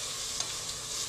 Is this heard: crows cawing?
no